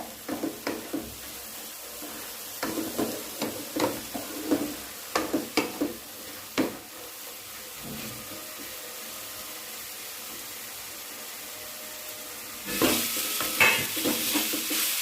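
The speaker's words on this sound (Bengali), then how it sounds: "ভালোভাবে নাড়াচাড়া করে নিতে হবে।" Red amaranth greens frying and being stirred in a pan: a run of scraping, clattering stirring strokes over a low sizzle, a quieter stretch, then a louder burst of sizzling and scraping near the end, with no talk.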